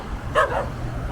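A dog at a coffee shop gives one short, close bark, followed by a soft whimper in a quiet setting.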